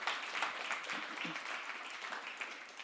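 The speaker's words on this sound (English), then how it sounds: "Let's give them a round of applause" Applause at a media launch for the SUSA Summit 2024, a crowd clapping in a dense, steady patter that holds throughout at moderate distance.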